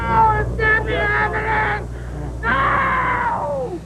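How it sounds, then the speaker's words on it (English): A grieving mother lets out loud, high, wavering screams and wails close by, in two long bursts separated by a short gap, over a low background hum. "The boy's mother was led away screaming as police told her what had happened."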